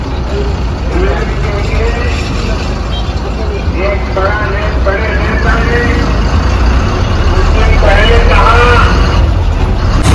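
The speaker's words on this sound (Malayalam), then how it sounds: "അണ്ണം വണ്ടി സ്റ്റാർട്ടാക്കിയിട്ടുണ്ട് കേട്ടോ." A long-distance bus on the Ernakulam to Masinagudi route idles just after starting, a loud, steady low engine rumble that builds slightly toward the end, with people talking over it throughout.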